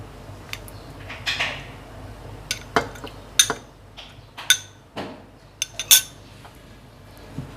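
A spoon stirs custard almond sharbat with soaked chia seeds in a glass, giving scattered light clinks and taps against the sides, some sharper than others, close up with no talking.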